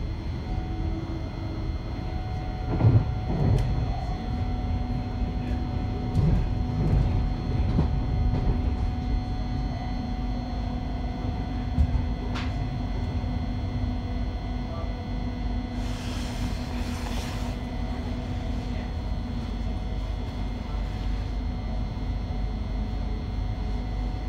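Thameslink train running between Stevenage and Peterborough via Huntingdon, a steady loud rumble from inside the carriage with occasional clanks and a brief hiss, without speech.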